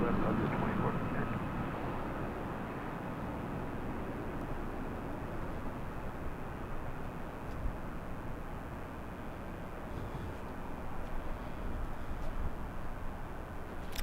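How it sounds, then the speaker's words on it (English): An Airbus A319 takes off at Los Angeles International Airport, heard as a distant, broad jet engine roar swelling and holding over the whole stretch, with faint talk in the background. "let's go with the A319. Look at that liftoff, you'll see."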